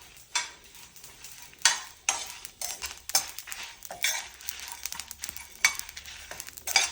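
Pepper, cumin and other whole spices splutter and pop in hot oil in a pan for a spiced horse gram rasam, with sharp irregular crackles over a steady sizzle and occasional stirring clinks, close and loud.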